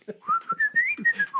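A person whistling a short, sliding tune that rises and then falls, close and clear, with a few soft breathy or clicking sounds beneath it.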